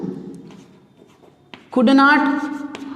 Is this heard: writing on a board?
yes